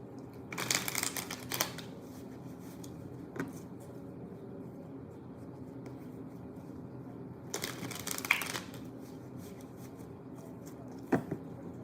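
Tarot cards are shuffled in two brisk riffling bursts separated by quiet handling, with a few soft taps and clicks in between.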